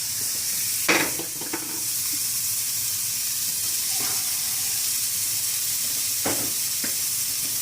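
Apples hitting a hot stainless steel pan give a steady, close sizzle and hiss, broken by a few short scrapes and clatters of stirring.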